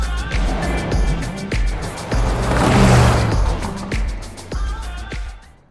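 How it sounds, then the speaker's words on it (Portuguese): Turbocharged SUV driving past, with a broad engine and road rush that swells to a peak midway and then fades, broken by sharp clicks and knocks, heard fairly close. "é um SUV com motor turbo"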